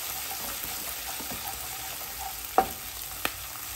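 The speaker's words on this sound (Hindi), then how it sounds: "इसे भूनिए।" A pan of ginger garlic masala fries with a low, even sizzle, and two sharp spoon knocks land near the end over the continuous crackle. No voices.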